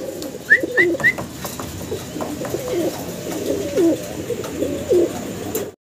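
Fancy pigeons coo in soft, low, repeated calls close by, spaced every second or so, with a few brighter chirps early on over a light background hum.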